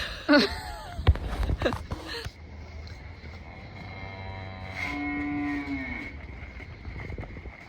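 Cattle lowing on a dairy farm during evening chores, several drawn-out moos rising and falling at mid distance, with a few sharp knocks and scraping clatter at the start.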